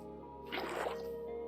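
A water bucket is poured in the Minecraft video game, giving a brief, soft splashing gush over a faint steady background hum.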